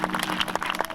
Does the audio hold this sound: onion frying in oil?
no